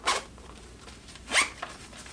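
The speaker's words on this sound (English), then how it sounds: "zipper pocket" A zipper on a pocket of a sewn bag made with spacer mesh and X-Pac fabric, pulled in two short quick zips, one at the start and another a second later, faint and close.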